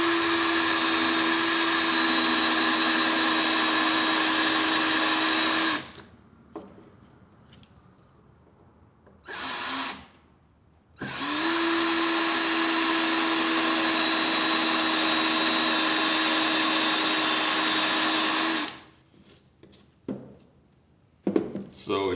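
An electric drill whirs steadily while drilling out a rivet through leather, walking off the rivet head, in two long loud bursts separated by quiet handling and brief short spurts.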